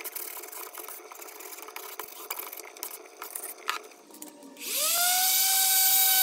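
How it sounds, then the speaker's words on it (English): An orbital palm sander spins up near the end, a steady close whine and rasp as it strips old paint from a trash-picked wooden wagon, following several seconds of scraping and rubbing noises. "I'm going to work with the orbital palm sander here to try to get as much of the old paint off as possible."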